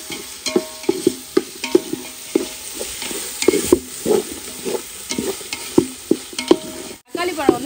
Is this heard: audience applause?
no